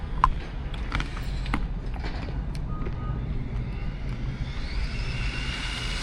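An Arrma Typhon RC car's motor on 6S power whines at full throttle, a steady electric drone with a higher whine rising toward the end, mixed with sharp clicks early on.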